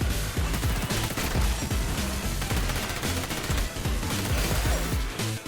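Rapid automatic fire from an MP7 submachine gun in XDefiant, a dense, steady stream of close, loud shots with only brief breaks between bursts.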